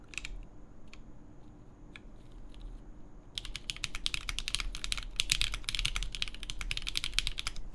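Fingers type on a QK Alice Duo split mechanical keyboard, a few isolated clacks at first, then a rapid, dense run of close, crisp keystrokes that grows busier and louder.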